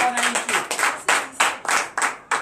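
A church congregation claps in acclamation during a Friday morning prayer service in Benin, loud rhythmic bursts of hand claps repeating roughly every half second, close and full throughout.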